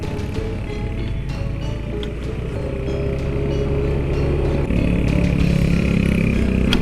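Motorcycle engine droning steadily while riding a bumpy track toward Gunung Ireng in Patuk, Gunungkidul, with rattling clatter from the rough ground and a slight rise in engine load near the end.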